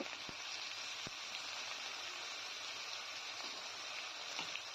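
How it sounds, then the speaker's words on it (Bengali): Cumin paste and chili paste frying with tomato while being stirred, for a vegetarian muri ghonto, giving a soft continuous sizzle with a couple of faint scraping taps early on, quiet and steady with no voices. "এবার জিরা লঙ্কাটাকে একটু নেড়ে চেড়ে নেব।"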